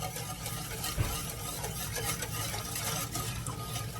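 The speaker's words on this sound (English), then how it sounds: "We are going to give this a good stir, a good mix." A spoon stirs a pot of food in steady scraping strokes, with a soft sizzle underneath and a single louder knock about a second in, close and continuous without any talk.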